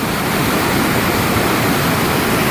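Water rushes and churns steadily through a rock channel at the Temperance River in Minnesota, a loud, continuous close-up roar with no pauses and no voices.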